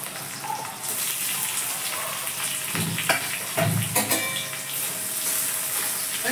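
Chopped capsicum stir-fries with onion in a pan for chowmein, a loud, steady sizzle close by, broken by a few scraping stirs and clinks midway.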